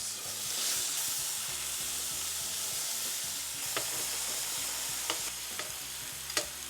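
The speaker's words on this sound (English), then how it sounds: "a little more olive oil. Get our onion cut side down. All of the leeks" Onion halves laid cut side down with leeks browning in olive oil give a steady, close sizzle throughout, broken by a few sharp spits and pops toward the end.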